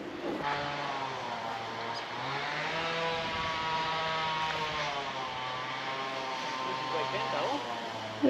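Ride-on mower running steadily on a farm, a continuous engine drone with harmonic hum, with people talking over it in places.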